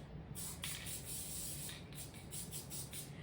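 Steady hissing spray from an aerosol can of spray glue, continuous and fairly close, with faint pulsing bursts on top; no voices.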